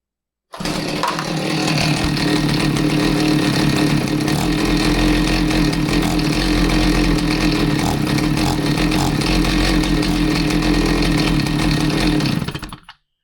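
A Stihl MS290 chainsaw with an idling fault starts up and runs loud and close at a steady high rev for about twelve seconds, then cuts off abruptly.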